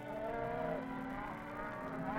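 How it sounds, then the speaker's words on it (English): Cattle mooing as they are rounded up on a Western range, a few sustained low bellowing calls close by over a faint background rumble. "The cattle are first rounded up."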